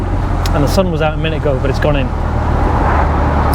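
A Porsche convertible driving with the top down gives a steady low engine and road rumble, with a person talking over it for the first two seconds before the drone continues alone.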